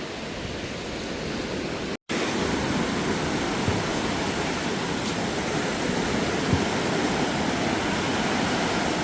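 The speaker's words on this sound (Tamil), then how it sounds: "அலையெல்லாம் பார்த்தீங்கன்னாலே தெரியும் என்ன ஸ்பீடில் வந்து கொண்டு இருக்குண்டு" Ocean waves crashing at a large export fish market in Sri Lanka form a steady, loud, rushing roar that barely changes, with one brief dropout.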